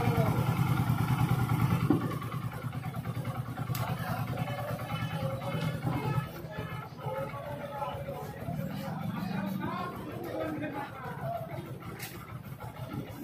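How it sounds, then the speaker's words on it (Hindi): A Bajaj Discover motorcycle engine idles steadily after engine-cleaning shampoo has been added to the oil, a continuous low rumble running throughout with background chatter and street noise around it. "अभी आपको इंजन को 10 मिनट के लिए स्टार्ट करके रखना है।"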